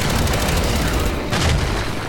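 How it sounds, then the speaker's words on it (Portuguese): Fragmentation grenade exploding in the Gears of War 5 campaign, a loud, dense roar of blast and rattling gunfire that fills the short moment without pause. "Lançando granada de fragmentação!"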